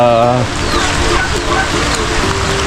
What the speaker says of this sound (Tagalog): Pero umuulan pa po.